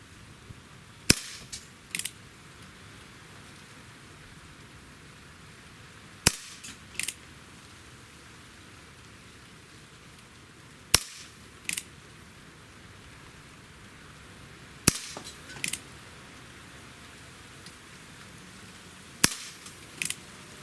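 A Colt Peacemaker single action revolver fires five spaced shots at an outdoor range, each a sharp crack followed by a softer second report, separated by several seconds of quiet background.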